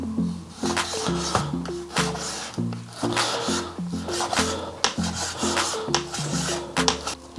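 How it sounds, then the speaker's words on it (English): A knife saws through bacon rashers, cutting them into thin strips on a board; steady, close, rhythmic rasping strokes, each ending in a light tap, repeat for several seconds over a tonal musical backing. "I've got 2 rashers of bacon. Any bacon of your preference will be fine. I'm going to cut that into thin strips."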